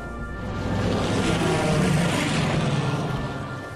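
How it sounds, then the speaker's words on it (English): Aircraft drone overhead in the war shooter Sniper Elite V2, a broad engine roar swelling in and fading out over a few seconds, steady and moderately loud, with no talking. "Got some airplanes going on."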